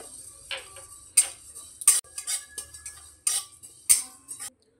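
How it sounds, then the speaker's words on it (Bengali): Panch phoron and radhuni seeds crackling as they dry-roast in a wok, a run of sharp ticking pops with a few louder crisp bursts, close and alone with no talk. "মশলাটা চুরবুর চুরবুর করতে আওয়াজ হচ্ছে"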